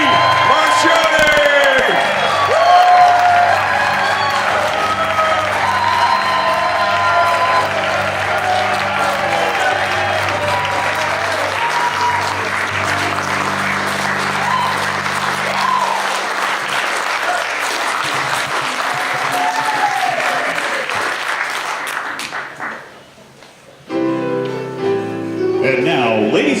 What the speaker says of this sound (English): Stand up and really cheer for Doreen Marchione.